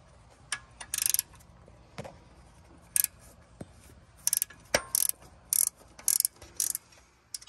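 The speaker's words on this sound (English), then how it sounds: "we're gonna use a 13 to get this bolt out that holds the actual thermostat to the transmission." A 13 mm ratchet wrench backing out the bolt that holds the thermostat to a 6L80 transmission on a 2015 Silverado, with close, sharp ratcheting clicks in short bursts and pauses between them.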